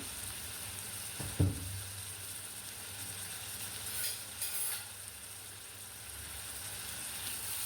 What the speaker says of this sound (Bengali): নেড়ে চেড়ে পেঁয়াজটাকে ভালো করে ভেজে নিব।